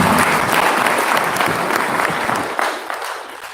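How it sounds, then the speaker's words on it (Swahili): A crowd at a memorial service claps loudly and continuously, the applause fading slightly toward the end. "Wapigeni makofi mpaka wafike kwenye viti."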